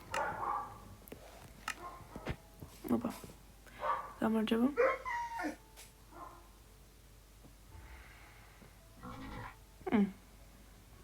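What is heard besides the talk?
dog barking and whimpering, video game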